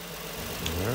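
2005 Nissan Murano engine idling after an ignition coil replacement, a brief faint steady hum with low rumble and no audible misfire.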